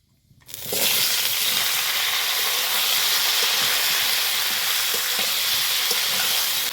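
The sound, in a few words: vegetables added to hot oil with tempering spices, sizzling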